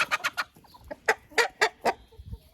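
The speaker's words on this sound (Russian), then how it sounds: "Петухи у нас активные. Бегают за курочками целый день." Several short, sharp clucks come from hens and active roosters on a small farm, spaced in an uneven series of bursts, fairly close and alone with no voices.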